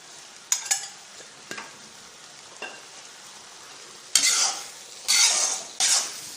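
A drumstick and jackfruit seed stir-fry sizzles and fries in an iron pan while a utensil scrapes and stirs in several short bursts, close and fairly loud, with no talking.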